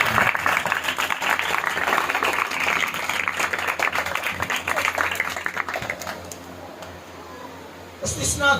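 Church congregation clapping loudly in praise, a dense steady roar of hands for about six seconds that thins out, then a fresh burst near the end, with some voices mixed in.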